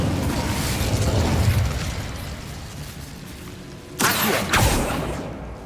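Incendio fire spell cast in the Hogwarts Legacy video game: after a steady rumbling bed, two sharp fiery bursts whoosh out close together near the end, loud and alone without talk.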